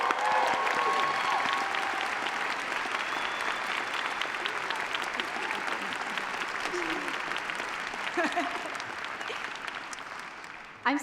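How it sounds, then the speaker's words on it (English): Sustained applause from a commencement crowd at the School of the Art Institute of Chicago greets an award recipient, a thick, steady roar of clapping with scattered cheers and voices, lasting about eleven seconds before cutting off. "please give me a round of applause for this year's part-time recipient"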